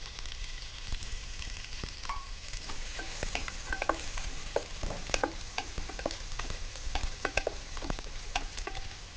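Onions sizzle and crackle in hot oil, a steady fry with scattered pops and occasional stirring, fairly close.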